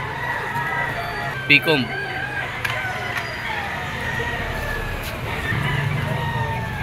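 At a poultry auction market in Lipa, a stag rooster lets out a short crow near the start. Background noise continues, and people talk nearby.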